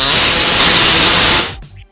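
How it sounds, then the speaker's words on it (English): An air saw cuts a small notch in the metal frame of a 2004 Chrysler Town and Country during a trailer hitch install, giving a loud, harsh, steady buzzing hiss for about a second and a half before it cuts off abruptly. "We're going to go ahead and open it up a little bit by using our air saw right here"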